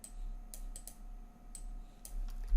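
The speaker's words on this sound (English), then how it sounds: "Clicking the same button here" Several sharp, faint clicks from a computer mouse button, spaced irregularly over a quiet room tone with no talking.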